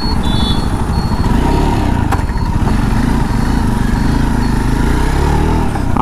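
A Jawa Perak motorcycle engine running steadily during a slow U-turn, a loud, even mid-pitched thrum close by with no talk.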